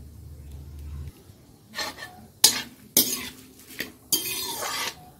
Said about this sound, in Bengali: মৌরিটা একটু ভালো করে ভাজা হোক